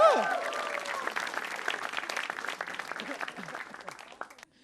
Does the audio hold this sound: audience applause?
yes